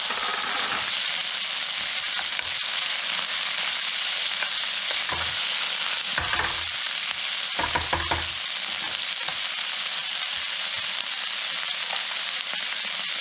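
Beef chuck sizzles steadily in a hot pan, a loud continuous fry with a few brief louder bursts and clatters midway as the meat shifts; no talking.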